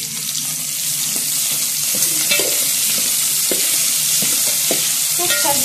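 Onions frying with beef in a pan for a Kenyan mrenda (jute leaf) and beef dish, a steady close sizzle with intermittent stirring scrapes throughout, no voices.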